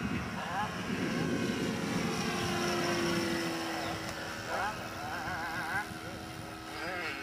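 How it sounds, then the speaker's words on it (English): An HP VT21 four-stroke RC model plane engine drones loudly through a low pass, its steady buzzing tone rising and shifting as the aircraft goes by, with someone talking over it. "Now if you can hear me over the roar of the engine,"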